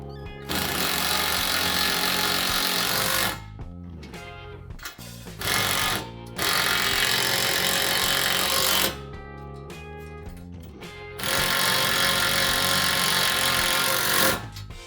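Button head bolts on Toyota Tacoma overland bars being tightened with a 3/16 Allen bit in a power driver: three long, loud bursts of close whirring and rattling, separated by short pauses, with no talk.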